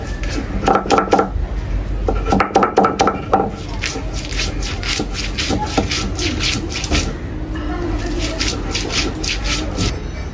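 Ginger and garlic are ground on a stone, giving rhythmic scraping and rubbing strokes, close and loud, in quick repeated bursts with brief pauses.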